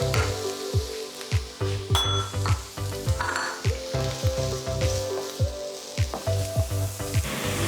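Chopped garlic and chilli sizzle with onions in a pan, with rhythmic spoon-against-pan clacks and scrapes repeating roughly every half second over a steady frying hiss, close and fairly loud, with background music.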